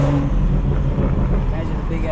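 Engine and road noise from a car in busy city traffic around Times Square, a steady low rumble lasting the whole moment with no clear pass-by swell.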